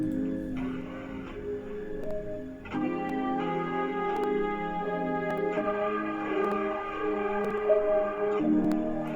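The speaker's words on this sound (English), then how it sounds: "I add some tape noise to add some ambient and also some saturation on top of the mix" Soft hiss of tape noise sits over a mellow lofi trap mix with saturated, reverberant melodic keys; the texture stays faint and continuous beneath sustained chords, with no voices.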